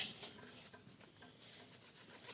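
A pigeon coos softly in a short, low burst, with light patter and rustling nearby.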